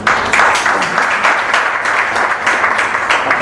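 Steady applause from an audience at an interdisciplinary lecture, a dense even patter of many hands clapping without break for a few seconds.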